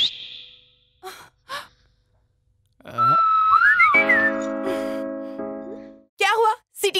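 A person whistles a bright, wavering tune for a few seconds after scattered breaths and sighs, with talking at the start and end.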